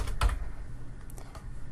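Typing on a computer keyboard while entering an Excel formula, with a few quick close key clicks, one firmer press near the start, in a quiet room.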